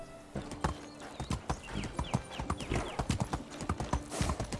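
Hooves clip-clop at a steady walking rhythm in the medieval game Medieval Dynasty, crisp close hoofbeats with a brief snort and faint background whistles.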